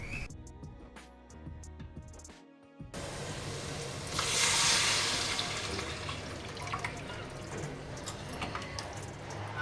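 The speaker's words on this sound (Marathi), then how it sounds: "इथे आपण येळवण्याचं पाणी टाकून हे मिश्रण छान असं हलवून घेतलेलं आहे" Cooking water drained from boiled lentils is poured into a spiced amti mixture for a puran poli meal: a steady, close splashing pour that swells to a loud rush midway, then settles into continuous liquid sloshing with no voices.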